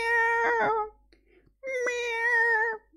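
Two drawn-out, close cat meows, loud and tonal, separated by a short silence, with a brief sharp noise at the very end.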